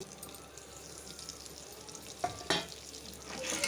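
Popcorn kernels with salt being stirred in hot oil in a pan, a soft steady sizzle with a couple of scraping stirs near the end, fairly quiet and with no talking.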